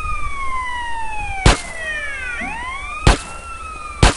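In a Grand Theft Auto game, a police siren wails with rising and falling sweeps, fairly clear and steady, broken by three sharp loud bangs.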